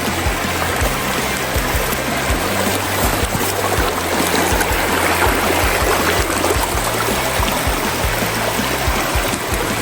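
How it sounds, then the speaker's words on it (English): A creek in Tonto National Forest, Arizona, flows steadily, its broadband rushing and trickling water loud and close throughout, with a low rumble mixed underneath and no voices. "right here, not too far away, is this beautiful creek"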